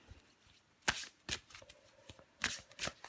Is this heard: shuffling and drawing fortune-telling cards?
yes